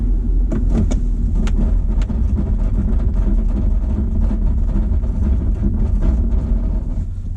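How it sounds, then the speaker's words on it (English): A car on Yokohama Geolandar A/T tyres drives over a slushy, icy, snowy road and brakes hard from about 30 mph, with steady loud road and engine rumble and tyre noise throughout, without talk. "I'm going to get up to speed here and slam on the brakes and see how it goes"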